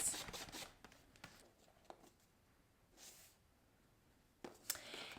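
A paper trimmer slices through card for card making, giving quiet scraping swishes and soft clicks, with a sharper cutting stroke near the end, close and faint.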